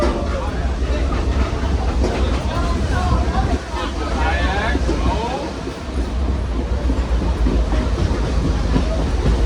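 Lehigh Gorge Scenic Railway excursion train rolling along its tracks on a 26-mile return run, a steady close rumble with wheel and carriage noise throughout, and faint voices mixed in beneath.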